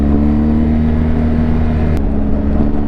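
A motorcycle engine drones loud and steady at close range as the rider overtakes on an open road, with the sustained engine tone shifting slightly partway through.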